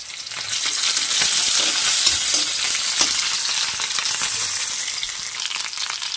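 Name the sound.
small onion frying in oil in a kadhai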